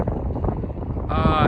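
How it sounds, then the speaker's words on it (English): Strong wind buffets the microphone at a mountain roadside stop in Colorado, a loud, continuous low rumble, and someone speaks over it toward the end. "It's very windy still."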